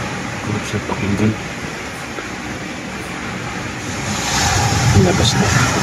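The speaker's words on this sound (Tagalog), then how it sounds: "Sarap pakinggan yung dagat." Sea waves roll in at a beach resort in Real, Quezon, making a continuous washing rush with wind noise, swelling louder toward the end, while faint voices murmur in the background.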